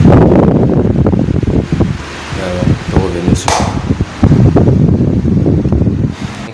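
A small battery-powered solar fan switched to its third, fastest speed setting, giving a steady loud whooshing drone throughout with a person speaking over it.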